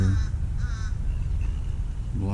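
A black bird calls out over a lake with lily pads, giving a few harsh, cawing cries at moderate distance above a steady low background rumble.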